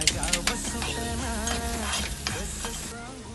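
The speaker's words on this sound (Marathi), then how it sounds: "कांदा लाल झाला आहे, त्यानंतर आपण टोमॅटो घालून घेऊया." Tomatoes go into a pan of onions fried until red, and the oil sizzles steadily as a spoon stirs and scrapes through them, with a few sharp clinks near the start.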